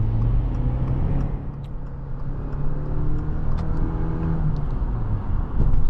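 A 2025 Subaru Forester Hybrid Touring accelerates hard to highway speed in Sport mode, its engine drone rising steadily over road rumble from inside the cabin, loud and continuous with no talking.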